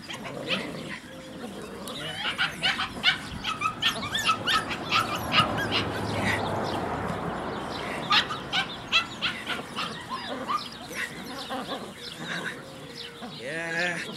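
A six-and-a-half-week-old puppy yips, whimpers and gives short barks in quick bursts close by, while a person talks softly in between.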